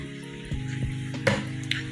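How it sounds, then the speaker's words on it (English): A spoon stirs cream into a pot of simmering shrimp chowder with potatoes. A quiet bubbling simmer runs throughout, broken by a few soft scraping and sloshing strokes. "Give that a little stir."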